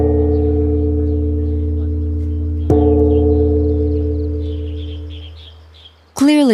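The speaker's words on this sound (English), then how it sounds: "The melody is played on the top bells, the accompaniment on the giant bells below." Ancient Chinese bronze bells sound a sustained, ringing tone with a fresh bell strike midway that blooms and slowly decays, a melody on the upper bells over deep accompaniment from giant bells below.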